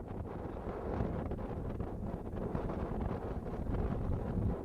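Cold wind buffets the microphone outdoors at a youth soccer match, a low, continuous rumbling roar that stays fairly quiet and steady throughout.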